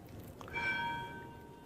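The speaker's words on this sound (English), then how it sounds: "This is the end, the bell." A class bell rings at the end of a lecture on a scripture text, a soft sustained tone with several steady pitches that swells briefly and then fades, heard faintly at a distance over low room noise.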